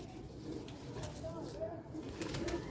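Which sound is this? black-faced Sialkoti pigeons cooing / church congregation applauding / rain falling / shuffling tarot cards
black-faced Sialkoti pigeons cooing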